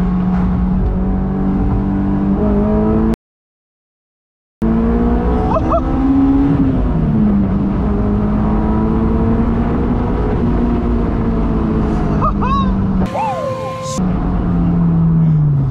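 A car engine is held at around 6000 rpm, producing a loud, sustained drone whose pitch drifts up and down. The sound is interrupted by a short stretch of complete silence early on.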